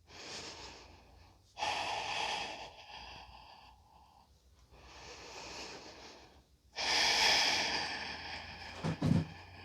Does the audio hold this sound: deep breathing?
yes